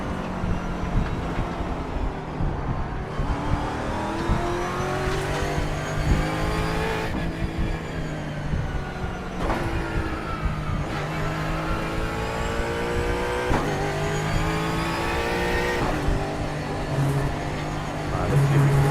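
A race car engine in the iRacing sim revs up and drops repeatedly through shifts, a loud rising whine with regular gear changes, heard close and continuous while someone talks occasionally over it.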